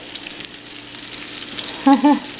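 Salisbury steak patties sizzle steadily in a hot pan, with two short scraping knocks near the end as they are flipped.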